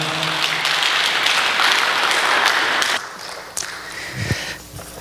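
A congregation in church claps to welcome the pastor to the pulpit, with loud, sustained applause that drops off abruptly partway through and then trails into a few scattered claps and room noise.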